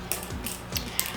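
A tint spray can, loaded with medium brown color for a lace front wig, is shaken in a few quick, rhythmic rattling strokes, the mixing ball clacking close and fairly loud.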